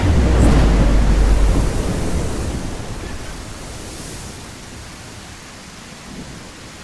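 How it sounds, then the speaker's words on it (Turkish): Rain falls steadily in the island-building video game Restore Your Island, a broad hiss that opens with a louder low rumble and then settles into a softer, even patter. "Yağmur devam ediyor mu? Yağmur devam ediyor."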